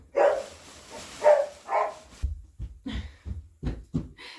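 Dogs barking indoors in a home, a few loud close barks at first, then a run of short, muffled thumps and yips in a quick irregular rhythm.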